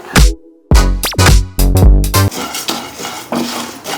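Urad dal (black gram) poured into a pan with a little oil and fried, a quick run of loud rattling clatters as the lentils hit, then a steady crackling hiss of frying, with no talk.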